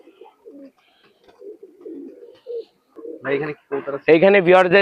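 High-flyer pigeons kept at a house in Bangladesh coo in soft, low, throaty phrases. Someone speaks over them and grows louder toward the end.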